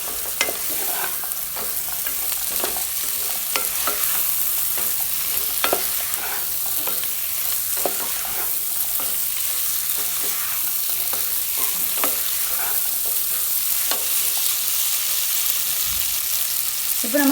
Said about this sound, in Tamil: பீன்ஸ், கேரட், அது வேக வச்சு வச்சுருக்கக்கூடிய பட்டாணி எல்லாமே சேர்த்து நல்லா வதக்கிடலாம்.